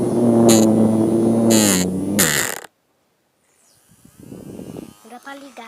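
A small toy handheld fan motor buzzes loudly and steadily up close, then cuts off abruptly to silence before faint rustling and handling noises return.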